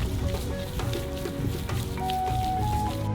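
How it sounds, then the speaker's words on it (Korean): Minced meat being kneaded by hand with spices, a steady wet squishing and squelching close up, with a faint tone running underneath. "다진 고기로 모든 향신료가 다진 고기와 골고루 섞이도록 손으로 잘 반죽해주세요."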